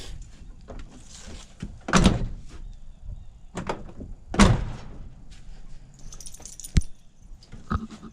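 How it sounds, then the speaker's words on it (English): A truck's hood is popped open outdoors, giving a couple of sharp, loud metallic clunks and thuds spaced a few seconds apart, with lighter rattles and clicks between them and no talking. "Pop this hood, let y'all check that out too."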